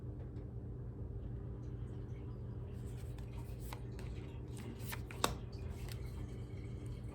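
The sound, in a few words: shuffling new Nightmare Before Christmas tarot cards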